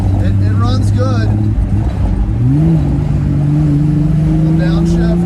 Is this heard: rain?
no